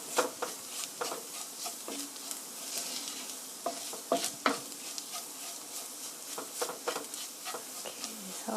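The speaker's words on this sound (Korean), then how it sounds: "이렇게 밀가루가 노릇노릇하게 될 때까지 볶아주세요." Flour is stirred and toasted in a hot pan as the base for a tomato sauce for fusilli. Quick, repeated scraping strokes sound close over a continuous soft sizzle.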